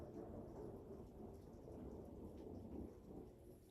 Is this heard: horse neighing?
no